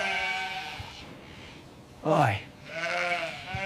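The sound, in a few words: sheep bleating during shearing at a wool farm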